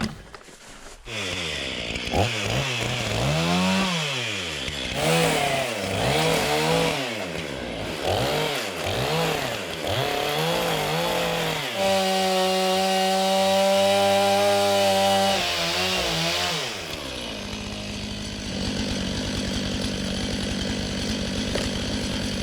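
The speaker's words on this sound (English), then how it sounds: "if I sink my saw into it a couple different lengths" A chainsaw roars while cutting into a standing dead tree at a wilderness campsite, revving up and down in repeated surges before holding a steady loud whine, then idling lower.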